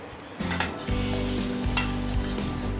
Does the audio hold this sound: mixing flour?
yes